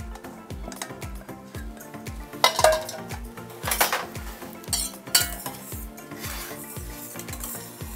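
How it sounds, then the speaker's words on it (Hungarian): A utensil stirs egg yolks into egg whites in a bowl, making rapid rhythmic clinks and scrapes against the sides, close and steady without talk. "Elkezdjük kevergetni, szépen beledolgozzuk a fehérjébe a sárgáját."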